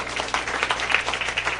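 Church congregation clapping at a live sermon in Tzucubal, Ixtahuacán, a short burst of steady, fairly close applause with no speech over it.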